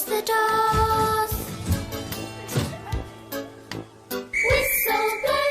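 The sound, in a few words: train engine whistle in Roblox Thomas and Friends video game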